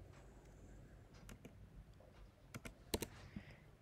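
Keys tapped on a computer keyboard while entering a mobile phone number for an S-com SIM recharge, soft sparse clicks in a quiet room that grow into a few sharper, louder taps toward the end.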